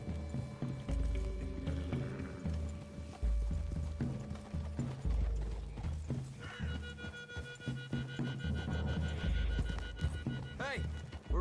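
Horse hooves clip-clop through a forest clearing in Red Dead Redemption 2, a steady multi-horse gait under music and occasional game sounds, with characters talking over it.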